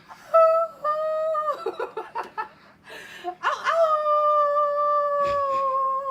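A dog howls in long, sustained tones broken by short yips and wavering notes, then settles into one drawn-out howl, loud and close, with no human voices.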